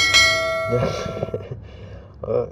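A notification bell sound effect gives one bright ding that rings and fades, and talking starts as the chime dies away.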